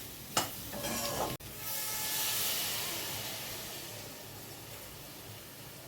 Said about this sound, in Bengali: মশলাটা ভালো মতো কষানো হয়ে গেছে, এখন অল্প করে জল দিয়ে দেব।